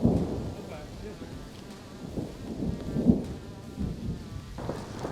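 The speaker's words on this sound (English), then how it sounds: "Storm's moved in, lightning's cracking around us." Low rumbling thunder rolls through a mountain storm in the Arizona desert, with steady rain and insect-like buzzing in the background; swelling rumbles rise and fade several times over a few seconds.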